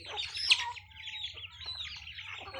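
Chickens at a morning feeding give a few close clucks and squawks, with one sharper call standing out early, over a low steady background hum.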